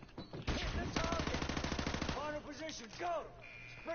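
Rapid automatic gunfire from Call of Duty rattles in a dense, fast burst, then stops, with someone talking over and after the shots, all at a modest, slightly compressed level.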